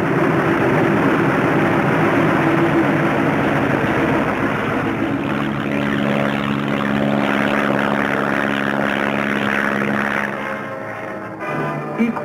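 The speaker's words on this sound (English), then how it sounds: "Often on good days, a first flight takes off in the sunrise, others following at regular intervals" Heavy roar of WWII propeller aircraft engines taking off for bombing runs in the Aleutian Islands, loud and continuous, with a steady droning hum that shifts slightly as the planes climb away.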